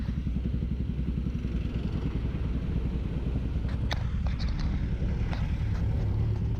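A Honda GPR Explorer 250 motorcycle idles steadily while warming up after a carburetor cleaning and oil change, with a continuous low engine rumble and faint clatter throughout.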